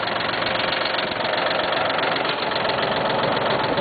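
A Cub Cadet tractor engine idles steadily with a low, even rumble and slight knock, running continuously without any speech.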